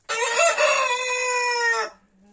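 A single loud rooster crow, close and clear, rising then holding a long drawn-out note for nearly two seconds before cutting off.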